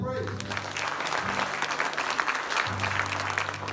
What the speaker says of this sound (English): The Lord, hand clap of praise.